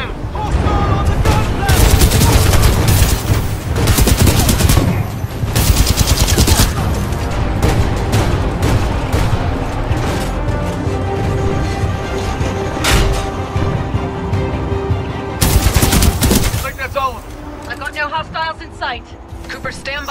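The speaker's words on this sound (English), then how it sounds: "Cooper, we can't move up while those guns are firing" Sustained automatic gunfire from the Titanfall 2 campaign, dense rapid bursts and booming impacts running loud through most of the span, with brief lulls, heavy game battle noise and a spoken line under the shooting.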